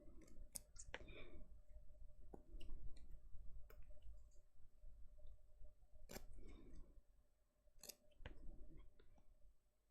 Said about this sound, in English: I am actually going to go in now with my smaller scissors.